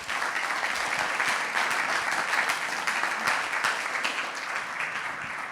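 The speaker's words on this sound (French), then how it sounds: "Je crois qu'on peut les applaudir." Sustained, even applause from an audience at a conference on Polynesian catering awards and labels, dense clapping at steady volume throughout, with no voices over it.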